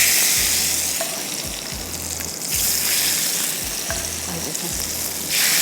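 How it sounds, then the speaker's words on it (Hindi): A hot tadka of garlic and cumin sizzles loudly as it hits lentil dal in a pot, a constant bubbling crackle with rhythmic stirring thumps underneath and no speech. "थोड़ा सा तड़का इसके अंदर,"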